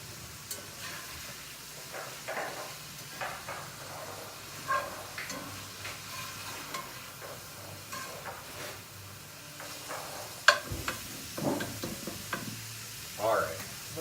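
Ground beef frying in a pan as it gets turned, a soft continuous sizzle and hiss with intermittent scraping stirs and occasional clinks, close and moderately quiet.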